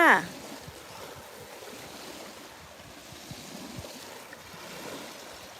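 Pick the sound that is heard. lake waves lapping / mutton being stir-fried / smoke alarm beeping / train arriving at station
lake waves lapping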